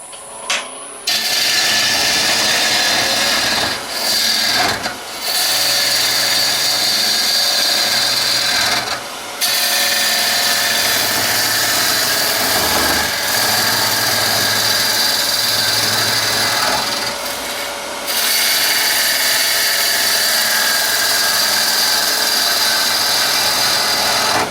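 A hollowing tool cuts into wood to widen a drilled hole down to its bottom. It makes a steady, loud grinding whine with a few brief pauses as the cut is eased off and resumed.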